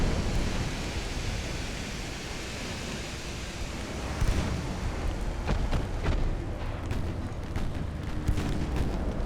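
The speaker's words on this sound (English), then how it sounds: "Internal explosion." An internal explosion aboard a warship in the naval game Ultimate Admiral: Dreadnoughts sounds as a broad, rumbling roar, with sharper blasts and crackles breaking through midway while the low, heavy noise keeps going.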